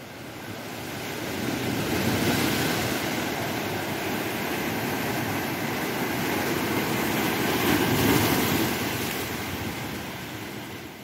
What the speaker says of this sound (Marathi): समुद्राची लय कानात घुमत होती